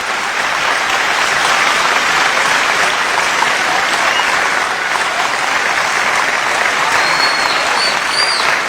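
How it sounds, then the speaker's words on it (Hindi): A packed audience at an Urdu mushaira poetry recital breaks into loud, sustained applause, a thick, unbroken roar of many hands clapping that stays strong the whole way through. "एक बार जोरदार तालियां बजा के"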